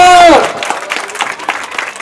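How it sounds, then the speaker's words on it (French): Audience applause fills a school end-of-year celebration, a dense crowd of clapping hands that follows a brief held vocal tone at the start, close and lively. "Je vous demande encore d'applaudir très fort."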